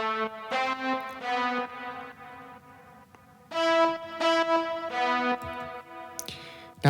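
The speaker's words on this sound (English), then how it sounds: "I flared it with an M1 instance with a brass" A synth layered with an M1 brass preset plays short rhythmic stabs and chords with bright harmonic tones and little bass, in two phrases separated by a brief pause.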